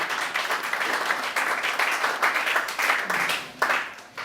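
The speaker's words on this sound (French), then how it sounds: "Est-ce qu'on peut applaudir?" Congregation at a Sunday church service applauding steadily, a continuous wash of many hands clapping together with a few louder surges, no speech over it.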